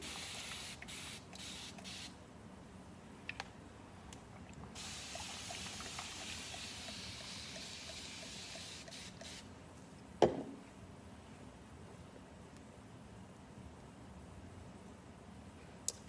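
A spray bottle misting water onto hair during a wash-and-go styling, a series of short hissing sprays with quiet gaps, close and soft, with one sharper clack partway through.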